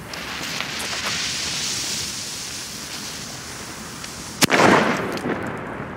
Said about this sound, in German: Es sind Kanonenschläge.